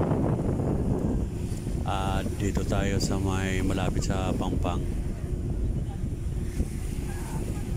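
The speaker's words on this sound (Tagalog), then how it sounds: "Naririnig nyo po ang kaluskos ng hangin." Steady, heavy wind at Manila Bay's Dolomite Beach buffets the microphone with a constant low roar, while a person speaks briefly over it.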